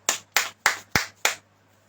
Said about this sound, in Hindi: ताली बजाएंगे सब क्या।